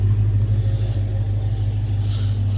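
A crashed Dodge Charger idles with a steady low hum and rumble, close and constant throughout, with no one talking.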